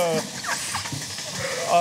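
Dairy ewes raised for Roquefort milk bleat on a farm, several short wavering calls scattered through the sound while a voice talks over them.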